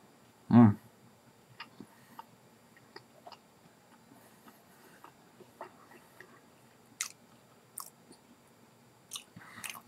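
Someone bites into an oatmeal raisin walnut Clif Bar with one loud close crunch, then chews quietly, with soft sticky clicks and squishes scattered irregularly over about ten seconds.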